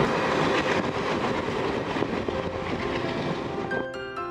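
A train runs through the rugged hill country of North Cachar in Assam, India, with loud, close rolling wheels and rail rumble. Near the end it eases into quieter tonal squeals.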